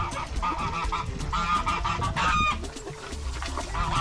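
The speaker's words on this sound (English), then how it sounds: "How about guineas being loud?" Guinea fowl on a farm calling loudly in the early morning, a rapid repeated series of harsh, rhythmic cackling cries from several birds, close and persistent throughout.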